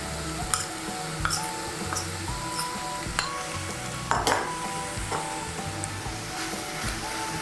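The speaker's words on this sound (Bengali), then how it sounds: "সর্ষে আর পোস্তটা ভালো করে মূলোর সঙ্গে মিশিয়ে নেব।" A spoon scrapes and taps around a pan as radish is stirred together with mustard and poppy seed paste for a Bengali vegetarian dish, with a soft sizzle under repeated clinks and scrapes.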